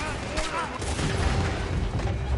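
Gunfire in Red Dead Redemption 2, a dense, steady stream of shots and booms blending under voices shouting throughout.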